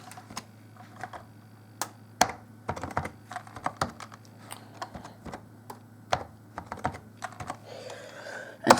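Password being typed on a computer keyboard while installing a Windows 10 tech preview: a steady run of sharp, close key clicks with brief pauses over a low hum, ending in a louder burst of taps.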